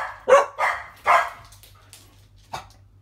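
Several dogs bark indoors, three quick sharp barks close together followed by a quieter single bark after a pause, over a low steady hum.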